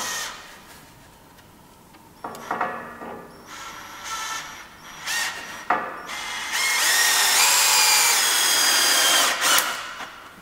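A power drill drives a screw into wood while building a rocket stand, starting with short whirring bursts separated by pauses, then one long, loud, sustained run near the end.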